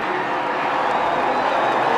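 A dense racetrack crowd at the Brickyard 400 in 1998 roars and cheers as Jeff Gordon nears victory, a steady, loud wash of distant voices with scattered clapping and no clear speech over it.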